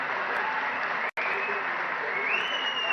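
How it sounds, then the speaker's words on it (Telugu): An audience at a public meeting applauds with steady, dense clapping that fills the clip at an even level, broken only by a very short dropout near the middle. "మీరు చప్పట్ల ద్వారా అభినందిస్తే"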